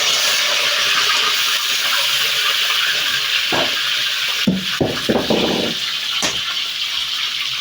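Mustard seeds, chillies and curry leaves sizzling in hot oil, a loud continuous hiss broken by a few sharp crackles and pops near the end.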